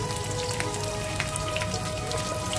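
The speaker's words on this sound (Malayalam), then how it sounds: "ഒരു ലൈറ്റ് ബ്രൗൺ കളർ ആവുന്നത് വരെ നമുക്കിതൊന്ന് വഴറ്റിയെടുക്കാം" Okra slices sautéing in a pan for sambar, a steady close sizzle and crackle that carries on evenly without a break.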